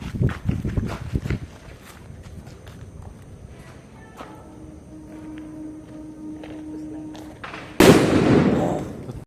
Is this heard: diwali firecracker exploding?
yes